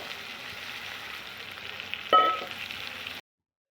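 Fish pieces with turmeric, salt and a small piece of tomato sizzle quietly in a pan, with a brief louder scrape or clatter of stirring near the end before the sound cuts off.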